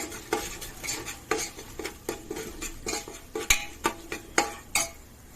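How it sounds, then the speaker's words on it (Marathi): Ginger-garlic paste and turmeric being sautéed for a village-style mutton rassa, a spoon scraping the pan in about a dozen steady, close strokes with a faint sizzle underneath and no talking. "आता याच्यामध्ये जाईल हळद टाकून चांगलं परतवून घेऊ।"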